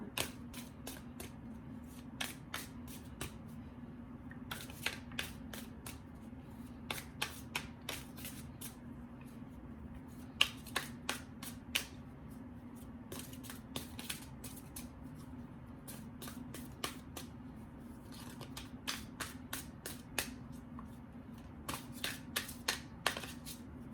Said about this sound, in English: Give it one more shuffle, please.